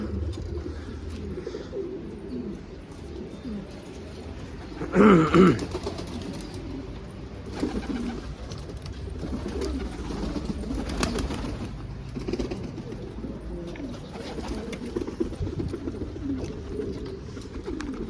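Istanbul breed pigeons with their squabs coo in a loft, a brief louder burst of cooing around the middle standing out against a low murmur of birds and faint background noise.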